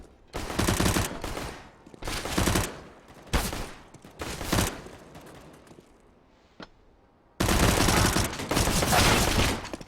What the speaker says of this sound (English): ENK runs out of bullets, so he finally falls, overwhelmed by the Glock of Lollipop.